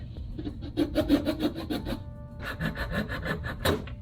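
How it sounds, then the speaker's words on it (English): Rhythmic rasping strokes of a hand saw cutting wood, close by, with a short pause midway before the back-and-forth sawing resumes. "then sawing from the other side, and we'll get through there eventually"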